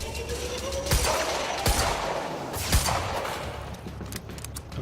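Gunfire in the video game Quantum Break, dense rapid bursts with a few sharper shots standing out, loud and continuous across the stretch.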